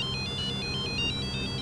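A bright electronic ringtone repeats in a steady looping melody of short beeping tones over a low background hum.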